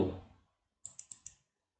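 Four quick, crisp computer keyboard key clicks in an even rhythm, heard close and alone after a brief fading sound.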